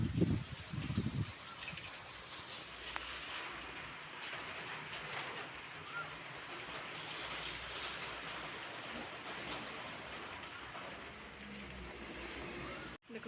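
A sudden heavy rain shower, heard as a faint, steady wash of hiss from start to finish, with a few louder low bumps near the beginning.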